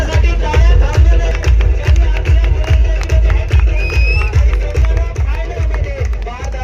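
A crowd at a village cricket tournament prize ceremony claps in a dense, continuous burst of applause, with voices and a loudspeaker announcer speaking over it.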